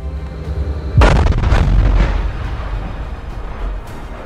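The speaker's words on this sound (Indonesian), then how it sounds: "bom tersebut meledak hingga membuat kendaraan lapis baja itu tidak mampu lagi untuk" A sudden loud bomb blast against an armored vehicle booms at close range, followed by a rumbling, crackling tail that slowly fades over a few seconds.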